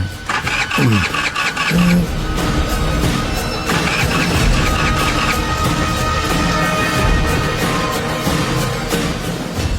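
A vehicle engine cranks and catches, rough and loud, then sputters out and stalls, followed by further uneven revving attempts close by.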